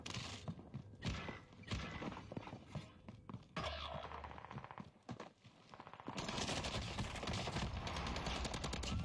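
Gunfire in Call of Duty Warzone: bursts of rapid shots and scattered single cracks, with a longer, denser sustained volley toward the end, fairly loud and without talk.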